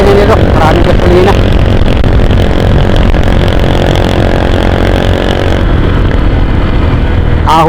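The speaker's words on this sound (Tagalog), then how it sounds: "Nakasarap gamitin itong mga ganitong motor." A motorcycle climbs an uphill road near Barangay Rosario on a trip from Lopez to Malaya, its engine droning loud and close the whole way with a faint voice underneath.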